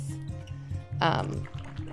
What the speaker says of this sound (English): Just going to add 2 cups of water into there.